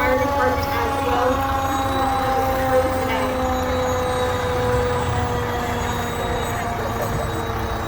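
The Erie Fire Department's 95-foot aerial ladder truck sounds its siren during the St. Patrick's Day parade in Erie, Pennsylvania, a sustained, multi-toned wail held steadily for several seconds with faint voices underneath.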